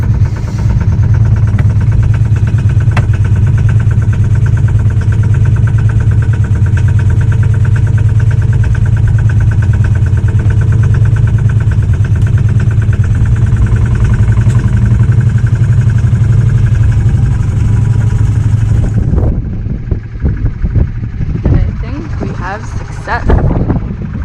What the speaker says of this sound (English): Theoretically, if I put this in gear, the boat will not go forward.